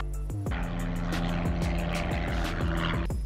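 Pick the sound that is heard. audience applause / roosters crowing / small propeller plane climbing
small propeller plane climbing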